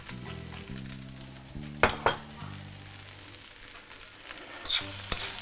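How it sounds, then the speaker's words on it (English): Chinese fried rice with Chinese sausage and fried onion is stir-fried in a pan, giving a steady sizzle under low hum, with a few sharp clinks of a utensil against the pan and a scraping stir near the end. "Give it a final still stir and it is done."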